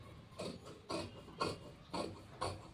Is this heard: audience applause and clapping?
no